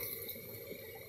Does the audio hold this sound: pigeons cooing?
no